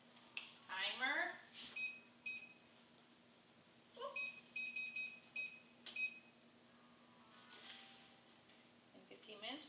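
Kitchen oven timer on a stove gives two bursts of rapid, shrill electronic beeps, close and clear, with a person talking before and between them.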